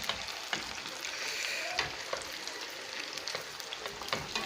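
Algerian honey makrout frying in oil, a continuous dense sizzle and crackle with frequent small pops, fairly quiet and steady throughout.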